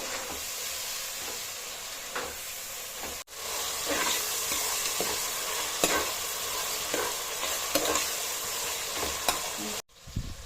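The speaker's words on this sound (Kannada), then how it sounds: "ಇವಾಗ ಟೊಮೊಟೊ ಎಲ್ಲ ಚೆನ್ನಾಗಿ ಫ್ರೈ ಆಗೋವರೆಗೂ ಕಲ್ಸ್ಕೋಬೇಕು, ಟೊಮೊಟೊ ಬೇಯೋವರೆಗೂ" Tomatoes and onions fry in a pan for mutton biryani, a loud continuous sizzle with repeated scraping stirs, close by, with two brief breaks in the sound.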